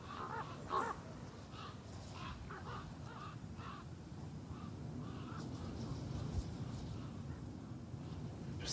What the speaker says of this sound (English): with the caws of the crows ringing through these valleys